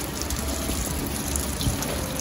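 Coolant draining from an Integra engine, a steady close gushing pour that runs without pause.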